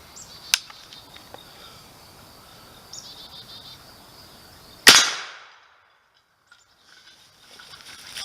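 A single sharp, loud report from an 1866 Trapdoor rifle in .50-70 Government cracks out partway through, fading quickly into near silence, with faint insect and bird sounds outdoors before the shot.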